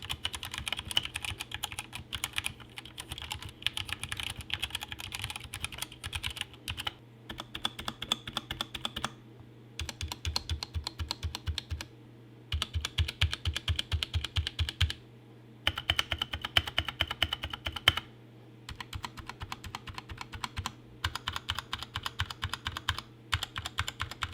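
Steady typing on a Drevo Seer Pro 60% mechanical keyboard with brown switches, dense clacky keystrokes in bursts separated by short pauses, close and fairly quiet.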